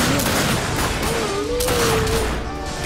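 Rapid gunfire in the video game The Darkness 2, dense continuous shooting with booming reports throughout, a voice speaking over the shots at times.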